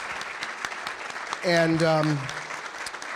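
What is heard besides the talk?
applause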